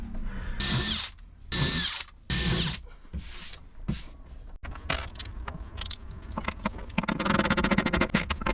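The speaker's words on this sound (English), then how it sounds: "this hole saw is about done" A drill drives a hole saw through material, sounding first as three loud whirring bursts, then as a rougher, rattling stretch of grinding and clicks that builds louder near the end.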